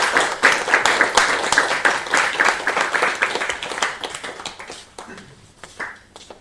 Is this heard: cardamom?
no